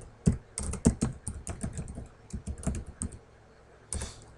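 Someone types on a computer keyboard in close, uneven bursts of clicking keystrokes, pausing briefly before a final cluster of taps.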